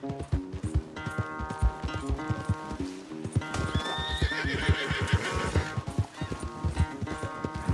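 A horse whinnies loudly amid a steady run of clip-clopping hooves in the video game Red Dead Redemption 2, with game music and effects layered underneath; no talking.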